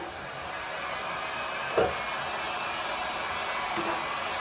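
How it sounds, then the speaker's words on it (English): Heat gun blowing hot air onto a candle in its container, a steady close airy whoosh with a faint clunk partway through and no talk. "I'm gonna take my heat gun, and I'm gonna just blast it"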